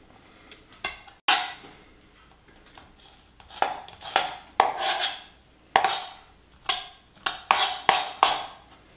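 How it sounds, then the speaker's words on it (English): A knife cutting the stems and seeds out of roasted serrano chilies on a board, with a series of irregular close taps and scraping cuts that come in quick clusters. "you want to cut off the stem end, and you want to cut the seeds out of the middle of these serranos"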